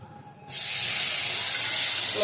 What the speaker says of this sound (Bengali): এখানে পটল ভাজাটা হয়ে গিয়েছে, এবার ডালটা ছুকে নেব